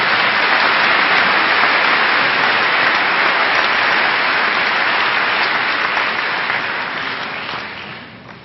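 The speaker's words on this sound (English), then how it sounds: "please join me in honoring him with a round of applause" Crowd applause for the valedictorian at the Wadsworth High School 2013 commencement, a loud dense sustained wash of clapping from a large audience that holds steady and then gradually thins out toward the end.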